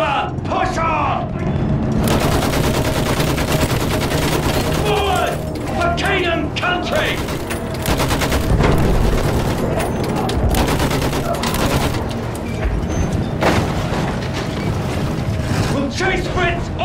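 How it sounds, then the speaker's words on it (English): Sustained gunfire and bursts of automatic machine gun fire in a World War I trench battle in Battlefield 1, loud and continuous, with booms and battle noise and shouted voices over the top. "Use that machine gun!"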